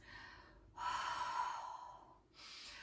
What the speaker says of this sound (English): Breathing deep, connecting back to the breath.